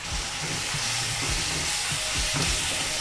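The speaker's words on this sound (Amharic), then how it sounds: "ሽንኩርታችንን እንደዚህ እንዲጠበስልን" Chopped onions sizzle in a pan with a steady, bright hiss, punctuated by low clunks and scrapes of stirring, with no talk.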